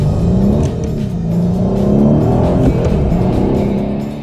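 Aston Martin DB11 V8 engine accelerating hard, a close, loud, rising growl with a slight dip and a gear change, then a steady strong roar that fades a little at the end, with no talking.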